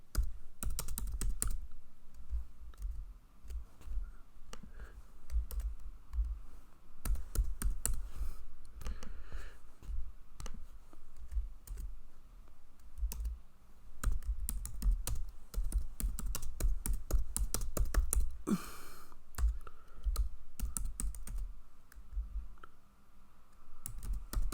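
Code being typed on a computer keyboard, a steady stream of close, quick key clicks in uneven bursts with brief pauses, no voices.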